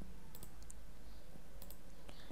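Faint computer mouse clicks come in a few quick pairs and singles while someone works in Microsoft Access, close and quiet over a steady background hiss with no talking.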